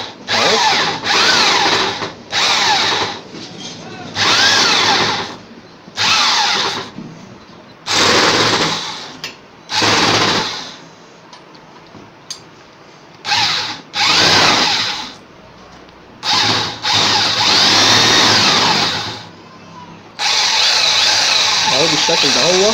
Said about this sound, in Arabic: بقلب الشميزه كده وببدا اشغل الشنيور بالراحه كده اهو